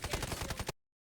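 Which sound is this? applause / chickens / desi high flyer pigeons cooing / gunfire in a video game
gunfire in a video game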